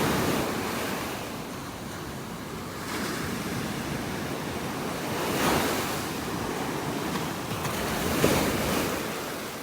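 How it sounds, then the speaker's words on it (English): Ocean waves roll onto a beach in North Naples, Florida, giving a continuous broad surf roar with gentle swells of louder breaking water and some wind buffeting, with no voices. "except for the waves."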